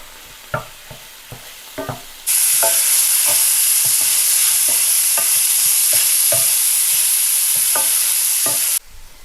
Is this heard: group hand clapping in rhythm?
no